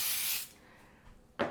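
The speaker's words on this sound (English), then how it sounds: "we're going to spray it with a little bit of Baker's Joy" Baker's Joy baking spray hisses into a casserole dish in one close burst of about half a second, followed by a second short spritz after a pause.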